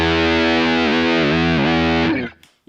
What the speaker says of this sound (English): a fuzz, very dirty